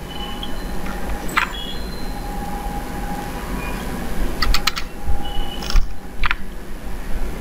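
Keys tapped on a computer keyboard while a SQL statement is entered, a sparse scatter of clicks over a steady hum, picking up into a short denser burst near the end.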